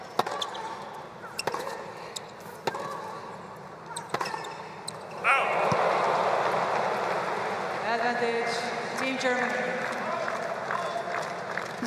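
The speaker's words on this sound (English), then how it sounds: "Applause from her." At a tennis match between Ajla Tomljanovic and Angelique Kerber in the United Cup 2024 semifinals, a few sharp ball strikes and bounces give way to a swell of crowd applause that rises and holds, with commentators talking over it.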